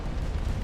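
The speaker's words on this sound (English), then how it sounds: "Damn it, this thing got hit by a torpedo" A torpedo strikes a battleship in the naval strategy game Ultimate Admiral: Dreadnoughts, giving a short, heavy explosion that booms in a dense low rumble for under a second.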